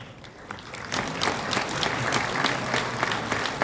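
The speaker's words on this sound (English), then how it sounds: "a big round of applause for all our winners" A hall audience applauds award winners at a World Youth Skill Day ceremony, with dense, steady clapping from many hands that swells after the first second and carries on evenly throughout.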